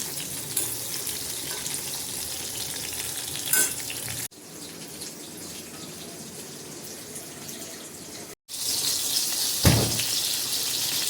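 Prawns fry in hot oil with a steady sizzle, broken by brief scrapes and taps of a spoon as they are turned over, plus a short louder clatter near the end; no one speaks.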